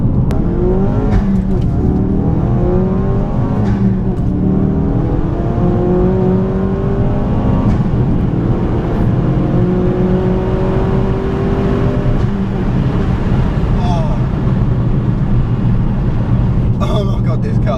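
A wide-arched, fully forged 430bhp Ford Focus RS pulls hard along back roads, its engine note climbing through repeated rising sweeps as gears change, loud and close from inside the car.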